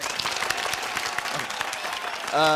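A studio audience at a music comedy show applauds to welcome a performer, sustained clapping close and lively, then a voice speaks briefly as it ends.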